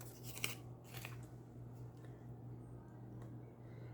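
Scissors cut out paper pieces in a few quick, faint snips near the start. A steady low hum runs underneath.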